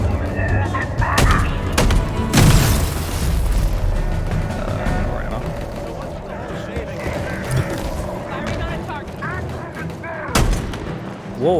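Gunfire in the shooter Halo Infinite: loud, close weapon blasts and booming impacts stand out over a busy, dense battle soundscape, with a sharp shot near the start and another near the end.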